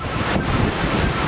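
Strong wind of force 7 to 8 blows through the harbor of San Sebastián de la Gomera, a loud, dense roar buffeting the microphone, with surf-like wash underneath, throughout a short stretch.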